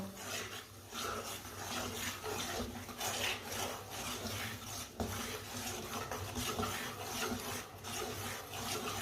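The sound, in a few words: stirring ground dal with a spoon while roasting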